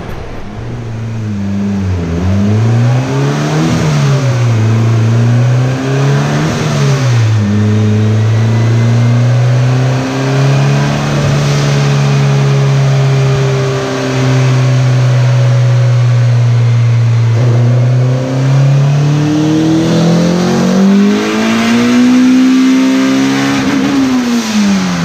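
A turbocharged car making boost on a dyno, with a slipping clutch, revs hard through repeated rising and falling sweeps before a long sustained pull, loud and close throughout.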